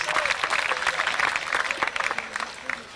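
An audience applauds at a Jazzmobile birthday celebration concert in 1990, a steady, dense clatter of many hands with some voices mixed in.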